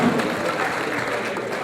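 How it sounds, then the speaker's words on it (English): Guests at a community gala dinner clapping their hands together, a continuous wash of applause from a crowd, fairly loud and sustained, with faint murmuring voices underneath. "Clap your hands,"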